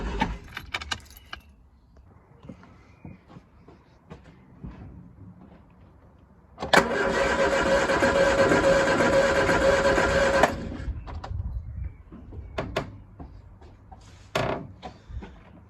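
Triumph Spitfire engine cranking without firing: a steady starter-motor churn lasting about four seconds, set between quieter clicks and handling noises of keys and controls.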